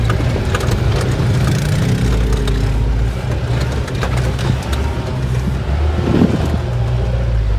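A Mahindra Thar engine drones steadily with the accelerator held down while climbing off-road hill terrain, a loud continuous low rumble with rattles and bumps over the top and no talk.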